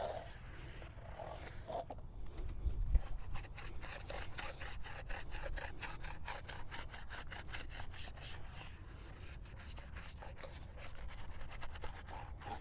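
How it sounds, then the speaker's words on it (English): Steady scrubbing of bristles against a Toyota Corolla's surface during a pre-wash, a continuous raspy rubbing with rapid repeated strokes, close up and without speech. "So I'm just doing a little pre-brush."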